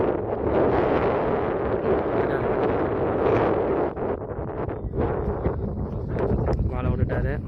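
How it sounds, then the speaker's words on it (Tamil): Strong wind roars across a cricket ground during a knockout T20 summer league match, a steady loud rush buffeting the microphone for the whole stretch, with muffled voices faintly beneath. "காற்று நல்லா அடிக்குது"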